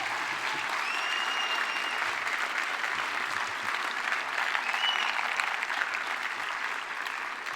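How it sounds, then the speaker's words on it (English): Audience at the Earth at Risk Conference applauds Chris Hedges after his keynote, a steady dense wash of clapping that stays even and sustained throughout, fairly distant. "Can we get another round of applause for Chris Hedges?"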